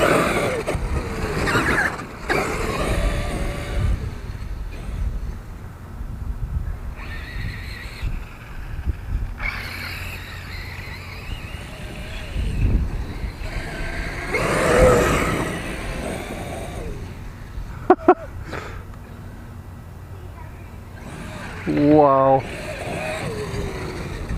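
A Traxxas X-Maxx RC truck drives outdoors, its electric motor whirring and revving in bursts with occasional thumps of landings. People talk over much of it.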